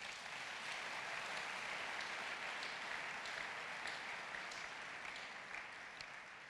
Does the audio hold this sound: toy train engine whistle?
no